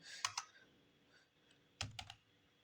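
Someone types on a computer keyboard while writing Java code, producing two quick bursts of crisp key clicks separated by a short pause, close and soft, with no speaking.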